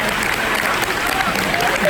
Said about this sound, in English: Give Luca a huge round of applause